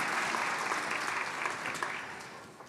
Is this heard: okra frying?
no